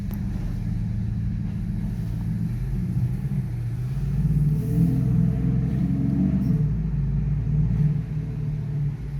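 Low, steady rumble of an Audi A7 55 TDI quattro diesel engine running, swelling slightly as it revs a little midway, heard from inside the car without talking.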